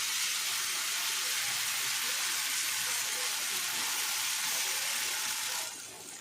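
Batter of flour and yogurt sizzles in a hot frying pan, a steady bright hiss held close and even throughout before easing slightly at the end.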